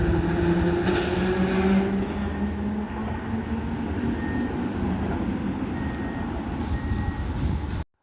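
A historic Bergmann Tw245 tram from Gdańsk rumbles steadily along rails in Warsaw with a low humming motor, a couple of high tonal squeals and a bell-like ding early on, then stops abruptly.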